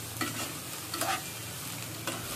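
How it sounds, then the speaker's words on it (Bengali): Onion and chopped garlic stirred in hot oil in a pan over medium heat, a steady soft sizzle broken by a few spatula scrapes, close and fairly quiet with no talking. "পেঁয়াজটা মিডিয়াম আঁচে নাড়াচাড়া করে এখানে অ্যাড করে দিল রসুন কুচি।"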